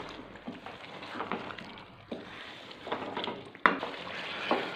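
Chicken korma sizzles in a pan as garam masala and crushed black pepper are stirred in. The spoon scrapes through the gravy in irregular strokes over a soft, steady frying hiss.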